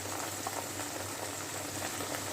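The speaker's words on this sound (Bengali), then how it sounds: "ভালো করে মশলাটাকে তেলের সাথে মিক্স করে নিচ্ছি। এবার আমি এটাকে কষতে দেবো।" Spice paste cooking in oil in a pan for a fish curry, a soft continuous bubbling sizzle, steady and close, fairly quiet with no talking.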